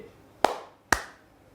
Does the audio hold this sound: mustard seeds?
no